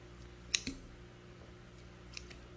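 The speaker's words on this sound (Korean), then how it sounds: "요 가위로 잘라서 사용해 주시면 됩니다" Scissors snip through a peeled sea squirt (meonge), giving two quick close clicks close together against a quiet background with no talking.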